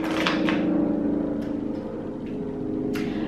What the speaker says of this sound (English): I live next to the hospital and there's like a helicopter, like a life flight helicopter.